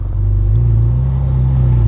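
A 15-year-old used supercar with ceramic brakes idles with a deep steady rumble, then swells into a continuous throaty drone as it pulls away, close and loud.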